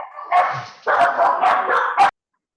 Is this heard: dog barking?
yes